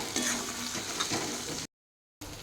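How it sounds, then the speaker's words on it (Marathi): Tomatoes sauté in oil with onions and green chillies, a soft, fairly quiet sizzle with faint stirring nearby, cut by a brief stretch of complete silence before the frying resumes, and no voices. "आता यामध्ये मी टमाटर घालत आहे टमाटर आता दोन मिनिट पुन्हा परतून घेणार आहे"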